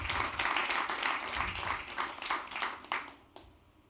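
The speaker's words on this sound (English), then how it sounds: "Let's give him a round of applause." Audience applause after a speaker at a startup community talk, a moderate burst of clapping with a few louder claps that thins out and fades toward the end.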